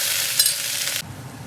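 Tempering seeds fry in hot oil for a kadamba dish made with foxtail millet, giving a loud, steady broadband sizzle with a brief stirring scrape that cuts off abruptly about a second in, leaving faint background noise.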